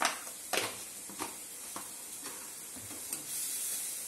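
Spiced stuffing for stuffed roti sizzles as it fries in a pan, with repeated scraping stir strokes at roughly half-second intervals over a soft, steady crackle.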